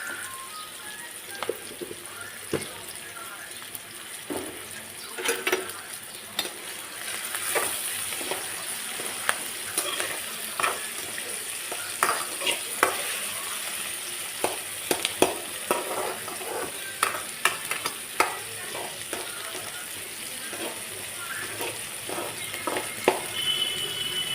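Tomatoes, onions and green chillies fry in oil, a continuous close sizzle broken by frequent crackles, pops and stirring scrapes that grow busier toward the end, with no speech.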